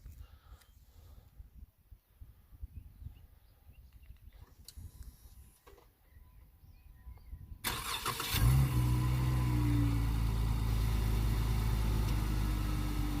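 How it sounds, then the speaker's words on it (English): A 2017 Dodge Challenger GT started remotely on a cold winter day in Germany: after about eight seconds of quiet, the engine catches and settles into a loud, steady idle that runs to the end. "My favorite feature is the remote start"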